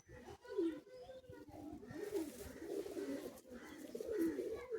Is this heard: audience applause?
no